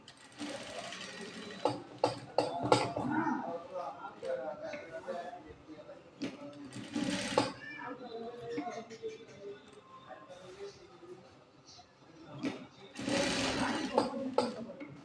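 A sewing machine stitches the chest placket of a panjabi in several short rattling bursts, with a person talking between and over the runs.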